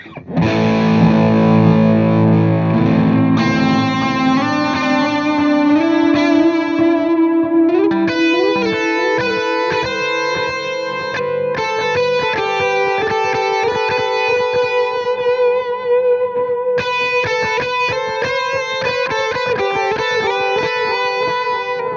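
A loud distorted electric guitar through a Suhr PT100 amp plugin's Crunch Ambient Echo setting plays sustained chords and ringing notes, washed in echo and ambient reverb, continuous throughout with no voices.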